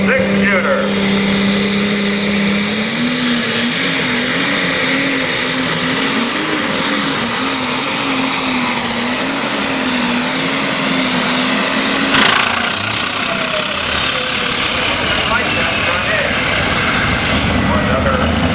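A pulling tractor engine revs loudly at a tractor pull, a steady high mechanical roar with a wavering tone that shifts and drops off partway through, with crowd noise and talk underneath.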